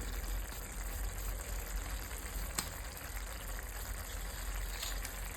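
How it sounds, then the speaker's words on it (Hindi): Gravy for egg lababdar simmering toward a boil over a low gas flame, a faint, steady bubbling hiss with a single soft pop partway through, no talking. "तो इसे अब उबाल आने लगा है"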